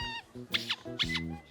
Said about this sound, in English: They like things that squeak.